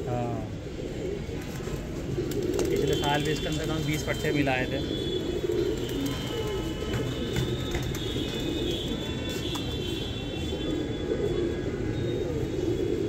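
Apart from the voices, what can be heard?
Gardaan pigeons cooing and fluttering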